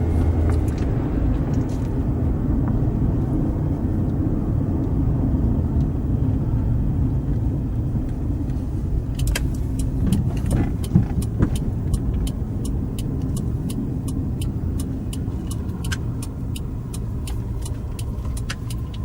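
A car drives through a city on a tour of Pretoria and makes a U-turn, with a steady low road rumble inside the cabin and a run of rapid light ticks in the second half.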